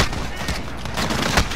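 A dense, loud burst of gunfire in Call of Duty Modern Warfare, broadband crackling shots packed closely together with a sharper crack near the end.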